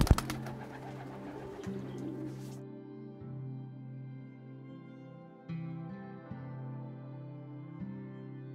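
Homing racing pigeons in a loft, soft repeated cooing from a bird held close, with a brief flurry of wingbeats and rustling at the start, steady throaty coos continuing alone afterward.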